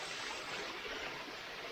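Brookside waterfall on a solo hike, a steady, even rush of falling water heard from some distance, faint and unbroken with no talking.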